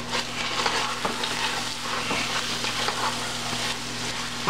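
Jalapeno popper chicken chili with garlic powder being stirred in a pot, a steady close scrape and sizzle with soft knocks of the spoon, continuous and moderately loud with no talking.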